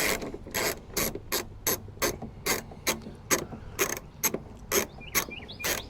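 A ratchet loosens a hidden fastener behind the headlight of a third-generation Dodge Ram, giving a run of close, crisp clicking bursts in a steady back-and-forth rhythm.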